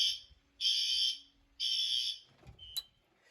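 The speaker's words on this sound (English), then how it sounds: "So let me just hit the fire drill button. And when you hear the alarm go off" A fire alarm on an LED L-Series fire alarm panel sounds during a fire drill, giving two loud, even high-pitched buzzing blasts of about one second each, followed by a brief click and short tone.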